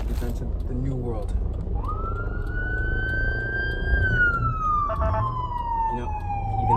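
An ambulance siren wails steadily in the background, its pitch dropping as it passes, over a low rumble of traffic and faint voices.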